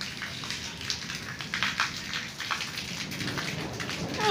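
Steady rain falls in Qadir Pur Ran, a dense patter of drops hitting surfaces close by, continuous with brief heavier splashes.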